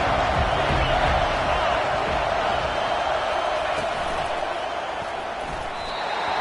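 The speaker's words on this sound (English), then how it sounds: "This crowd knows when to bring it." A large football stadium crowd roars steadily through a tense late-game moment, a dense, loud wall of cheering that holds throughout without breaks.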